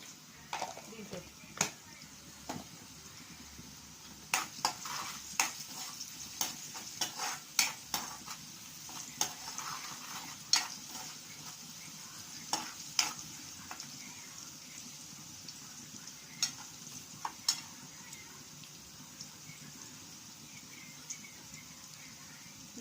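Onions frying in a pan with salt and turmeric, stirred with a spoon: a steady low sizzle under frequent scraping clicks and taps of utensil on pan, close and fairly quiet.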